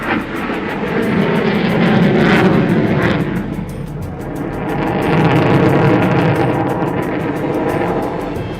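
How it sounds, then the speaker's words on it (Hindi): Indian Air Force Tejas, Jaguar and Mirage fighter jets fly past at a display, making a loud, broad roar that swells, dips around the middle and rises again. "राफेल के अलावा भारतीय वायुसेना के भरोसेमंद और दमदार तेजस, जगुआर और मिराज विमानों ने भी अपना जलवा बिखेरा"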